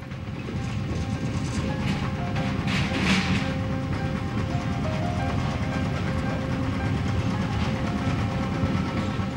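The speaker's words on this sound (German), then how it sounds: "Nur die alte Werksbahn tuckert noch über die Gleise, für Touristen." An old works railway train, now running for tourists, rolls steadily over the tracks with a continuous loud rumble and rattle, a brief swell midway and no talking.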